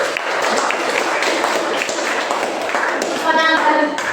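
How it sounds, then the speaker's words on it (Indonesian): A classroom of students claps for their teacher, a dense steady patter that fills the moment, with a voice talking over it near the end. "Tepuk tangan buat guru"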